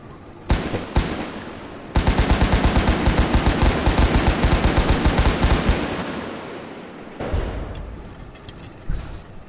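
Rapid machine-gun fire from a tank in Tank Mechanic Simulator, a loud sustained burst of evenly spaced shots after a few single bangs, then a quieter rumble and one more late shot.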